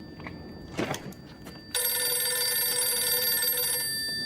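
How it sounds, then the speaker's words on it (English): A TARDIS telephone in Doctor Who rings out loud and steady with a bright electronic trill that sustains for over two seconds, following a few brief knocks and faint background rustle. "When the TARDIS phone rang and the Doctor tried to answer"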